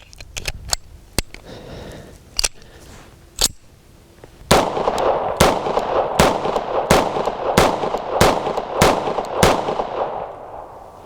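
Cartridges snapped one by one into Rock Island Armory 1911 pistol magazines, RIA Tactical II reworked by Prasky Gunworks: a few scattered metallic clicks, then a steady, evenly spaced run of about eleven sharp close clicks over light handling noise.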